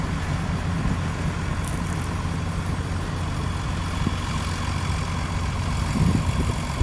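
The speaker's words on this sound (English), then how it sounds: "Tractors everywhere." Tractor engines idling together at an outdoor lawn party show, a low steady rumble with a faint mechanical hum and occasional small knocks, heard at moderate distance with no voices.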